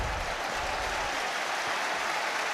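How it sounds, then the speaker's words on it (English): Football crowd roaring in the stands at an FA Cup match between Chelsea and Wrexham, a steady, fairly distant wash of cheering and noise with no clear breaks. "He was being roared on by the crowd there"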